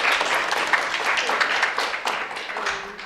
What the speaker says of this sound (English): so please an applause for him.